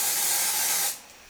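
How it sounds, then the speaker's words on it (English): A steady aerosol hiss of lace tint spray misted into the inside of a wig, lasting about a second, then cutting off. "So I'm just going to go ahead and spray the inside."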